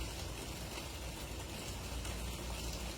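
Rain falls as a faint, steady hiss of drops on surfaces. The wash is unbroken and nobody speaks.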